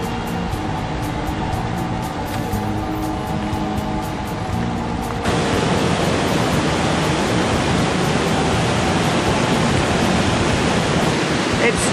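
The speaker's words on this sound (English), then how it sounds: "It's starting to pour with rain" A dense, steady roar of pouring rain in Sandon, a ghost town in British Columbia, Canada, growing noticeably heavier partway through and continuing without a break.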